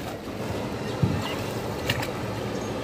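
An open boat rocks on the water on a reservoir near Rajrappa Falls, with a steady wash of water and wind, soft knocks and creaks of the hull coming through at intervals.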